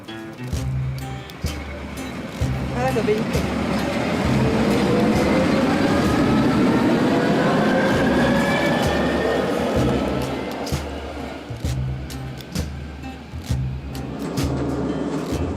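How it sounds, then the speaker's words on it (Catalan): A small red train on the Jura railway line in Switzerland, two to five carriages, rumbles along steadily with a rhythmic low clatter of wheels over rail joints, loud and continuous throughout with no talking. "Diverses vegades al dia fa un recorregut de tot just 20 quilòmetres amb el seu trenet vermell"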